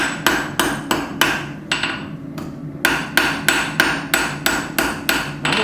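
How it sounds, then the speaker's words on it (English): A small hammer strikes hot metal while forging a necklace hanger, giving a regular series of sharp, loud blows with brief gaps, all close by and without talk. "I'm actually using a pretty small hammer."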